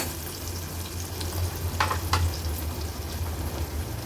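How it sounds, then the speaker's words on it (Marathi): Onion cooking in a pan over a medium flame for an Agri Koli style vegetarian thali, giving a steady close sizzle and fry with a few brighter crackles and stirring scrapes midway, no voices. "फ्लेम मीडियमवर ठेवून कांदा आपल्याला शिजवून घ्यायचा आहे।"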